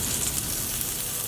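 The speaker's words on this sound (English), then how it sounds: "Sear the salmon, so I'm going to put about 2 teaspoons of oil in the pan and skin side up, flesh down for about 3 minutes" Salmon fillet sears flesh side down in about two teaspoons of oil in a pan, skin side up, giving a steady, close hiss of frying that holds evenly throughout with no talking.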